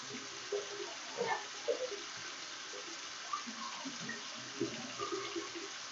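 Tap water runs steadily while hands are rinsed, a continuous broadband splash with small clinks and shifts in the flow, moderately loud throughout, with no talking.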